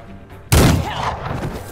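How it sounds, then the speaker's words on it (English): A single close pistol shot in the video game Empire of Sin, a sudden sharp crack with a booming tail that fades over a second. "Swap weapons, take a shot with the pistol."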